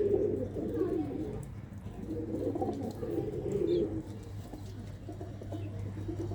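Several pigeons cooing close by in low, repeated rolling coos that overlap in bursts over a steady low hum.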